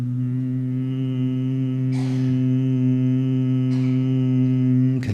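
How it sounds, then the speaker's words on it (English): A group of people hums together in a sound healing session: a steady, loud, sustained drone with brief breaths and rustles over it, and no words. "Continue to hum."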